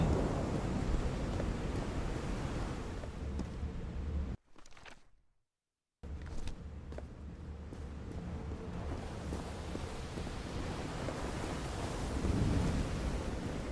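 A thunderstorm in the game Call of the Sea rumbles with low thunder, wind and rain in a heavy, continuous wash, cut by a brief near-silent gap before the storm returns.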